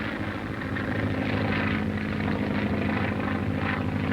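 Training planes from 1942 drone steadily overhead, a loud, continuous engine and propeller roar with no break across the whole stretch.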